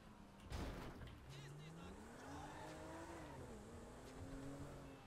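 A car in Grand Theft Auto V drives into the Los Santos Customs garage, its engine rising and falling in pitch with a brief tire squeal near the start, while someone talks over the driving sound.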